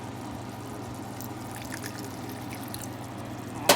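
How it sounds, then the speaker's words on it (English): Starchy pasta water is poured into a pan for puttanesca, giving a steady low gurgling trickle close by that runs evenly before a brief clunk at the end. "And now I'm going to add the pasta water."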